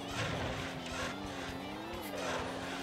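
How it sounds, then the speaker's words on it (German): Car engine from the 1997 PS1 rally racing game Rally Cross drones steadily with squealing, squeaking tire noise rising and falling over it, loud and continuous. "Der Wagen quietscht einfach nur."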